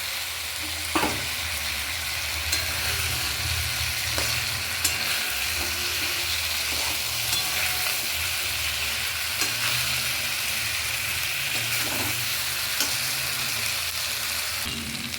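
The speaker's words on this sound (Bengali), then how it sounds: "একটু ঘি দিয়ে দিলাম মাছগুলো ছেড়ে দিলাম" Aar fish sizzles steadily in hot ghee in a pan, a continuous bright crackle with occasional soft clinks and stirring bumps, close and moderately quiet throughout.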